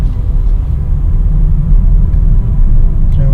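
A 2020 BMW X5 M Competition engine accelerating hard, heard from inside as a deep, steady low rumble that swells slightly toward the end, with no talking.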